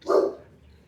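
A single short, close dog bark, one sharp loud woof that fades quickly into quiet.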